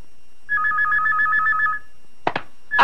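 A telephone rings with a steady electronic warble for over a second, then a sharp clatter as it is picked up, in a Tagalog action film scene.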